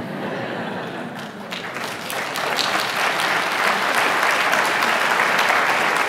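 Sustained audience applause, many hands clapping at once, building slightly and holding steady as a dense, loud wash of sound.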